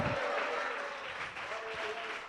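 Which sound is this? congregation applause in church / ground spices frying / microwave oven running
congregation applause in church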